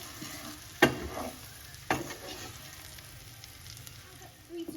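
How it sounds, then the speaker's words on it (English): Rice toasting in a pan after golden onions for saffron risotto, giving a low, steady sizzle broken by two sharp stirring scrapes and a faint clatter near the end; no voices. "so we can put the rice and let it toast for 3 to 4 minutes."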